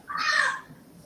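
A pet parrot gives one short, cat-like squawk, a single bright mew lasting about half a second and then fading into quiet.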